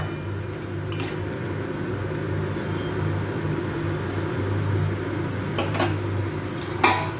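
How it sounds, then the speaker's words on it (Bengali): A lid is set onto a cooking pot of Bengali vegetarian banana-stem curry, giving a few brief metallic clinks against a steady low kitchen hum, with a sharper clatter near the end. "এবার আমি এই থোড়টাকে ঢেকে দেব।"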